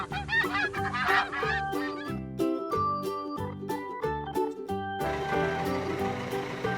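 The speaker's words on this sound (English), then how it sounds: "here are two birds. One goose, mummy goose, and one gander, daddy goose." Geese honk repeatedly in short nasal calls over a bouncy musical backing, with a bright jingling shimmer joining in near the end.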